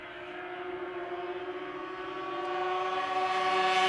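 A Ski-Doo racing snowmobile speeding along a race course, its engine a loud, steady high whine that builds in volume as the sled approaches.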